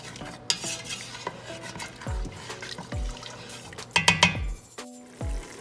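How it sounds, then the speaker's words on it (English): A spoon stirs Jamaican curry chicken in a pot after a cup of water is added, with repeated scraping swirls, liquid sloshing and metallic clinks against the pot, close and without talk. "I'm going to go ahead and add a cup of water. Give it a good stir"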